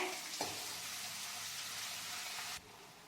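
Ginger frying in a pan for a date and lemon pickle, a faint even sizzle opening with a small splash-like burst, then dropping quieter near the end, no voices.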